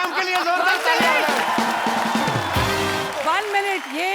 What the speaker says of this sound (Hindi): फरा मैम के लिए जोरदार तालियां